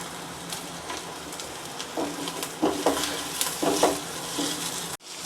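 Dried and green chilies sizzle in hot oil in a pan for more kolambu, with a steady crackling fry and a few louder spitting bursts that cut off abruptly near the end.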